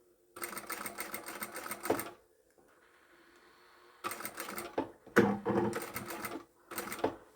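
Sewing machine stitching fabric in several runs of rapid mechanical whirring, each lasting a second or two, separated by short pauses and a faint low hum, close and clear.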